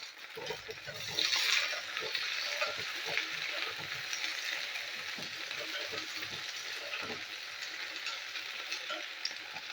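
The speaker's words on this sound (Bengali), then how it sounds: "ঢ্যাঁড়সগুলো ভালো করে ভাজতে হবে।" Okra sizzles in hot mustard oil in a wok with a constant dense crackle, broken by light stirring clinks and scrapes, and a voice may be faintly present under it.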